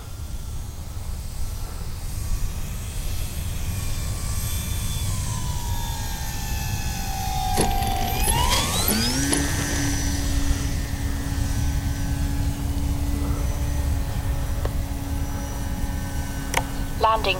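An Arrows Hobby Bigfoot radio-controlled model plane makes a pass, its motor drone falling in pitch then jumping up as the throttle changes, holding a steady whine over breezy outdoor noise.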